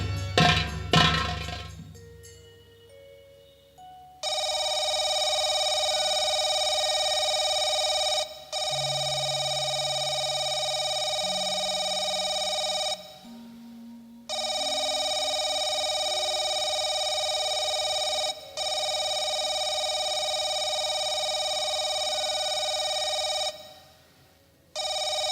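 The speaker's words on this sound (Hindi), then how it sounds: "इतनी रात को किसका फोन है?" At night, a telephone bell rings in long loud electric bursts separated by brief gaps, repeating several times after a short musical lead-in.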